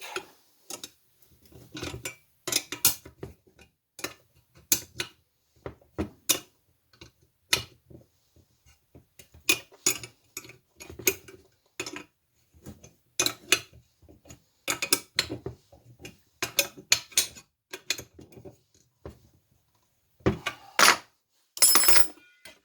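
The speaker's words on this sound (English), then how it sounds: "Got some 7/16 wrenches. We'll tighten these up." Metal wrenches on 7/16 bolts while a shovel handle is fitted, giving scattered sharp clicks and ratchety clinks in irregular bursts, close and alone, with brief quiet gaps between.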